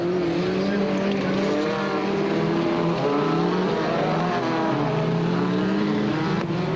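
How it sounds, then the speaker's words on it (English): Super Special race vehicles pulling away from the start line in a 1998 Super Series event, a loud, dense roar of several engines revving and accelerating together, with rising tones and tyre noise. "Craig Draper struggled away from the line as the Super Special vehicles got underway, led by Jackie Joubert."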